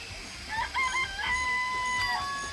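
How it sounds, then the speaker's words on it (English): Chickens in a coop in the Danganronpa video game, giving a few clear rising and falling clucks and calls, fairly loud and close, alone without talk. "I remember that there were some chickens in the chicken coop."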